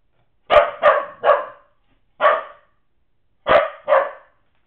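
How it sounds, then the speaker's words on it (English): A dog barks loudly and close by in short bursts: three quick barks, a pause, one bark, then two more. "stop barking"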